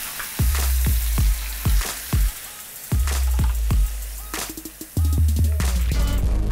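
Two steaks sear loudly in a hot pan, a constant close sizzle broken by repeated thumps and scrapes as the meat is moved and pressed, no voices.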